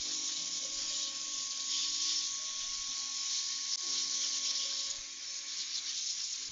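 Compressed air hisses steadily as it blasts water out of the tight spaces inside a game controller being repaired, a loud continuous rushing noise with a faint tonal whine underneath.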